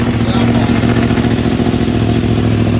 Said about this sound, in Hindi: बाइक को हमने पूरा स्टार्ट कर दिया भाई।